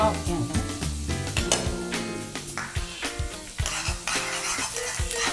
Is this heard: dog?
no